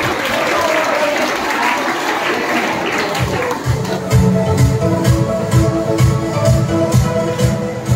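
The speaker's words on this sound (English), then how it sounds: "Please clap for him." A crowd applauds the winner at a college farewell event, dense clapping that swells and grows louder partway through, with cheering voices mixed in.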